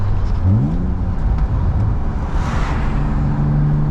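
A BMW E36 328i engine blips up in revs and settles during a rev-match downshift, a deep rumbling from its single-exit exhaust heard from inside the moving car.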